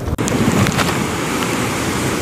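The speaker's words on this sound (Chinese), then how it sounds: "海风狂啸，掀起滔天巨浪，水花四溅" Strong sea wind roars continuously over crashing huge waves during Typhoon Koinu at a fishing harbor, a dense, loud, unbroken wash of wind and surf.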